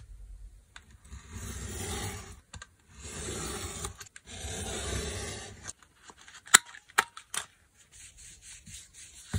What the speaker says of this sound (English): Okay, I'll just cut off the excess.